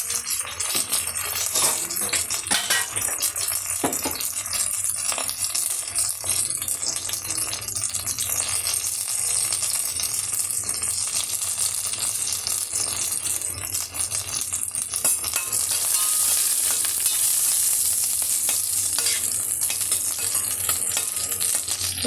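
Cloves, cinnamon and curry leaves frying in hot oil for a fish curry, a steady continuous sizzle with light stirring rattles throughout, no talk.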